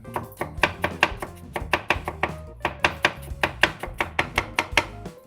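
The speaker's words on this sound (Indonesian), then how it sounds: "Sebenarnya untuk merajang bawang merah itu nggak perlu lembut-lembut banget sih" A knife chops shallots on a cutting board in quick, even strokes, about four per second, each one a crisp, close, loud knock. No voices.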